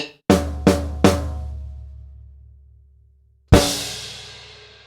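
A drum kit plays the final two bars of a Trinity grade 3 piece: three loud crash, snare and bass drum hits in unison, ringing out, then one last big crash-and-drum stroke that decays.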